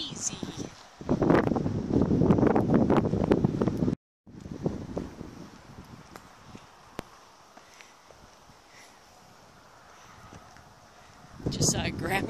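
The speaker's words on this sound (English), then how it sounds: "But it's not cold, it's just breezy." Breezy wind at the beach buffets the microphone in a steady rushing roar, loudest early on, then eases to a softer background hiss with a renewed gust at the end.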